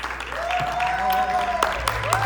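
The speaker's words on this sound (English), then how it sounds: "Round of applause for Abigail Yates." A crowd at a contest claps and cheers briefly, with whoops and voices over the applause.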